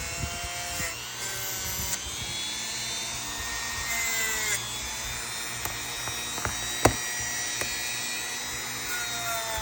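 A steel brush scrubs rust off the blade of a vintage Kent knife. The scraping and rubbing is continuous and close, with a tonal whine and a few sharp clicks, and no talking.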